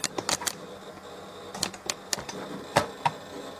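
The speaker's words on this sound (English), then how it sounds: "Listen to that hard drive." The hard drive of a Pentium II Windows 98 computer seeks while booting, giving sharp, irregular clicks and ticks in clusters over a low hum, close by.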